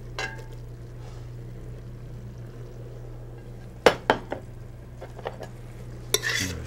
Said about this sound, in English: Go ahead and add our mushrooms.